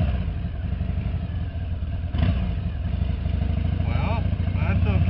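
A vehicle engine runs steadily on a test run after a clutch repair, a loud continuous mid-pitched drone with rattling clatter and a brief change near the middle, while someone talks over it.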